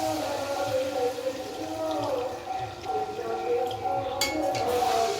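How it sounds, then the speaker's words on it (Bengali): Water poured into a pot of braised chicken being cooked for chicken khichdi, a steady liquid splash with faint clinks, close and moderately loud, with no talk. "এবার দিয়ে দেবো সামান্য পরিমাণে জল"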